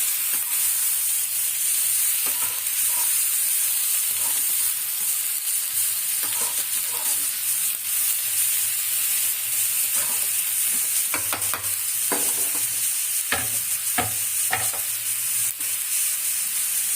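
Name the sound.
sautéing masala for fish curry in a pan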